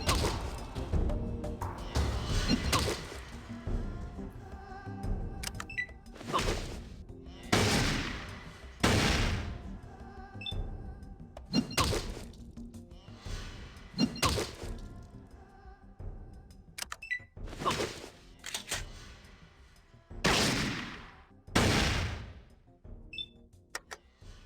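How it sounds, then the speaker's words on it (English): Gunfire from enemies firing at the player in the PC game Fallout 2, heard as a string of separate loud shots and bursts spaced a second or two apart across the whole stretch, with no talking. "Guys still trying to shoot me, I think."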